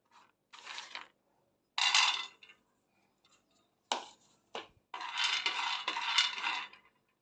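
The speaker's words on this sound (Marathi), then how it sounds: "सुरुवातीला आपण शेंगदाणे भाजून घेऊयात" Peanuts tossed in a dry pan rattle and scrape in short bursts, a few separate shakes followed by a longer stretch of stirring, close and fairly quiet with no talking.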